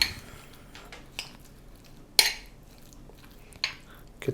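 A utensil mixes ricotta, grated mozzarella and cheddar with basil, salt and pepper in a bowl for a calzone filling, producing soft scraping with a few sharp clinks against the bowl, close and otherwise quiet.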